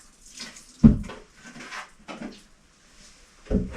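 Fresh water is sprinkled onto new paper bedding in a worm compost bin, making a few short splashing bursts with quiet gaps between them.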